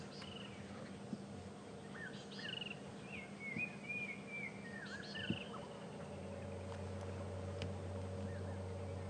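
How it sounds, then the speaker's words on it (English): Arrow-marked babblers chatter in scattered bursts in the distance during a morning safari drive in the bush, faint over a steady low vehicle hum. "The birds you can hear in the background are called arrow-marked babblers, and babbling they certainly are this morning."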